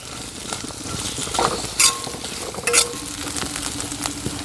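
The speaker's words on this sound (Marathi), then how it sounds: "चांगला ब्राऊन कलर येईपर्यंत आपल्याला कांदा परतायचा आहे" Sliced onion sautéing in a pan until browned, with a steady soft sizzle and occasional stirring scrapes and clinks of a utensil against the pan, close by and alone.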